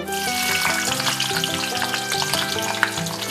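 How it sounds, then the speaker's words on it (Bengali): Capsicum stir-fried in oil in a wok for a soyabean capsicum dish, giving a loud, continuous crackling sizzle with bursts of stirring throughout and no talking. "এইবার এই ক্যাপসিকামগুলো একটু সামান্য নেড়ে চেড়ে ভেজে নেব"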